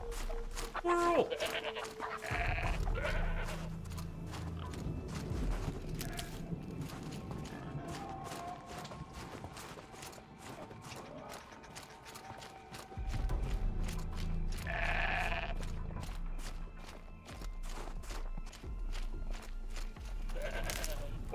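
Goats bleating in Horizon Zero Dawn: The Frozen Wilds, a few short bleats near the start and again later, mid-distance, amid hoof clatter and game ambience, with someone talking over parts of it.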